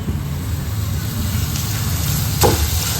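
Paneer frying in a pan for a Hyderabadi paneer recipe, a steady broadband sizzle that holds evenly throughout, close and unbroken, with no talking.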